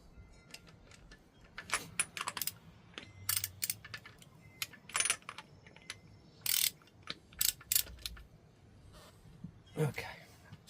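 Metal socket and ratchet clicking as a spark plug is snugged down with a 7/8 socket on a Farmall 450 tractor engine, rendered as bursts of sharp ratcheting clicks in uneven clusters, fairly close, with faint talk between them.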